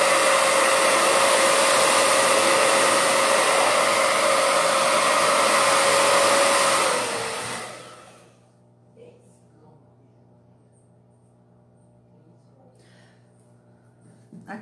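A handheld hair dryer blows steadily and loudly over wooden crates freshly coated in a colored patina, running alone for about seven seconds before shutting off and winding down, leaving faint handling noises.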